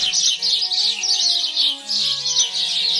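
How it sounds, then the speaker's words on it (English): Birds chirp and tweet in a forest, a dense run of bright overlapping calls repeating steadily and fairly close, with soft tonal sounds beneath and no voices. "It's bird noises."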